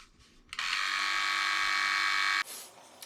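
A Philips Norelco Shaver 6500 electric shaver with its shaving head attached switches on and buzzes steadily at close range for about two seconds, then cuts off, with no talking over it.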